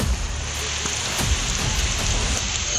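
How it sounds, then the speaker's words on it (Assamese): Steady rain falls across a hillside near a temple site at Likabali, Arunachal Pradesh, a dense continuous hiss close around, with a couple of faint low thumps and no talk. "এইফালে চাওক পুৰা বৰষুণ এতিয়া"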